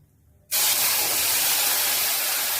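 Ginger and green chili paste hitting hot oil with a little turmeric, a sudden loud burst of sizzling that starts after a quiet moment and then holds as a strong, steady hiss.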